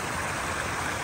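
Flowing water at a river confluence in the Dominican Republic where clear and blue rivers meet, a dense, steady rushing roar close by with no pauses.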